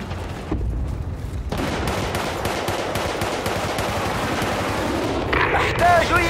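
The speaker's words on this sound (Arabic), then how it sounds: "سيتم إطلاق المدافع فورا" Artillery and rapid gunfire in Battlefield: Bad Company, a dense, continuous barrage of loud repeating shots and booms, with a brief quiet gap early on and a radio-like voice near the end.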